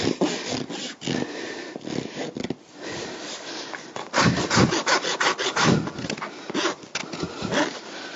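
A farrier works a rasp over a horse's hoof to shape it, giving close, repeated rough scraping strokes in an uneven rhythm with brief pauses between passes.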